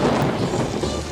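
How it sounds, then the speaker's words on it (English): A thunderstorm brings heavy rain and a low rumble of thunder in a dense, steady wash of noise, loud and continuous, with no voices. "she shouted above the noise of the thunder and rain"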